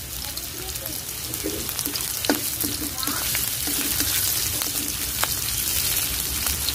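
Ginger fries with onion in oil in a pan while a sea snail dish is cooked, making a continuous close sizzle with light crackles and occasional utensil taps.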